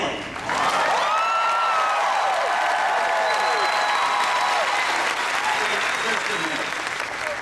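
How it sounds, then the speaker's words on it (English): Loud, dense audience applause fills a large hall at the D23 Expo 2015 Disney Parks and Resorts presentation, sustained throughout with bright cheering whistles and crowd noise on top. "let's have one more big round of applause for our winner, Stanley"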